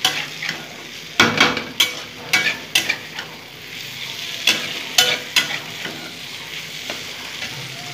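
Four eggs and two potatoes stirred with spices in a hot pan for egg-potato bhurji: repeated sharp spatula scrapes in an uneven rhythm over a continuous sizzle, loud and close.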